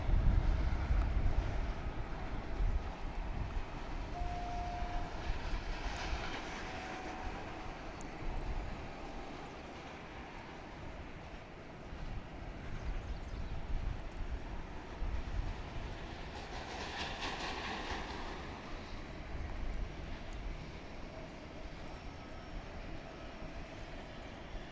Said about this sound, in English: quick takeoff here